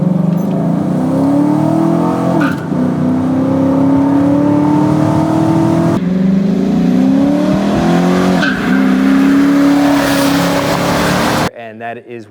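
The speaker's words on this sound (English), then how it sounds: "did your tires actually chirp second gear?" A Chevrolet Silverado truck's engine revs hard as it accelerates, tires briefly chirping on each gear shift, including second gear, loud and close, ending in a short burst of talk.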